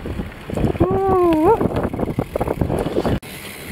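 Wind blowing across a mountain trail during a hiking outing, a steady loud rush buffeting the microphone throughout, with a brief tonal whistle partway through and a sudden dropout near the end.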